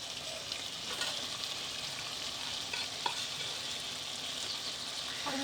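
Bottle gourd leaves, telakucha and shanti greens frying in a pan give a dense, continuous sizzle with occasional stirring scrapes and clicks throughout, close and steady with no voices.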